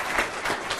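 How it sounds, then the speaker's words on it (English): Audience applause at the close of a university lecture event, a brief burst of steady, dense clapping heard alone. "Bonnie Efros, Sophia Cord, and Sean Adams deserve a big round of applause for making this kind of event possible."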